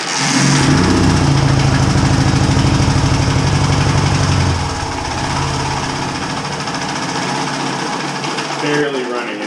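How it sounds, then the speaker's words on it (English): A 1980 Honda XL250S motorcycle engine with a low, unsteady idle, barely staying running, loud and close with a steady chugging pulse that weakens partway through, with a voice briefly over it. "Barely running, as you can hear, barely running."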